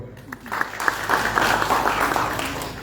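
A lecture audience at Fourah Bay College breaks into applause, a dense burst of many hands clapping that swells quickly and holds steady.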